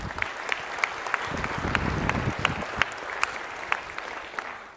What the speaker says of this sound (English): Let's give a round of applause for Jill.